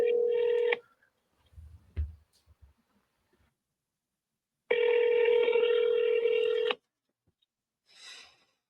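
A phone on speakerphone plays a burst of dialing tones, then a long steady ring tone after a pause, with faint rustling and brief background noise between them.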